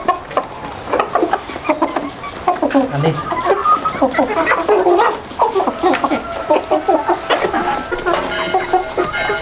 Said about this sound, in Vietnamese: Gà nuôi gà chân to này bán thịt người ta cũng thích.